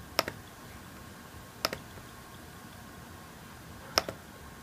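Three sharp, quiet clicks of a computer mouse, spaced irregularly against a faint steady room hum, with no talking.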